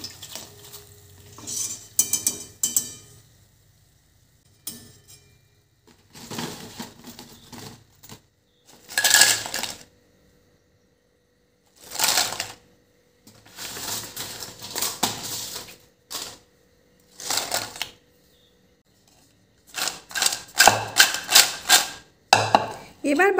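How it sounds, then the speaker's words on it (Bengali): Crispy fried potato chips are lifted out of oil and tossed, producing bursts of light rattling and clattering crunches separated by silent pauses, close and fairly loud with no talking. "আওয়াজেই তোমরা বুঝতে পারছো যে চিপসগুলো কতটা ক্রিস্পি হয়েছে"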